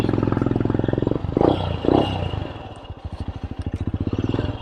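A Royal Enfield Scram 411 motorcycle fitted with a stainless AEW Thunder exhaust pipe runs close by with a deep, bassy thump. It revs up twice, then settles into a steady, pulsing idle.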